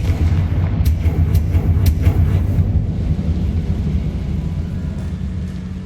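Confringo blast spell from Hogwarts Legacy, a run of sharp fiery cracks early on over a heavy, continuous low rumble that slowly fades.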